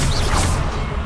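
A fire spell cast in Hogwarts Legacy, a loud continuous whooshing burst of flame with crackling texture that fills the full second without a break.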